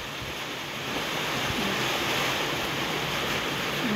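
Strong typhoon wind roars steadily outdoors during a storm in Luna, La Union, a broad, continuous rushing wash that buffets the microphone and swells slightly after the first second, with no talk.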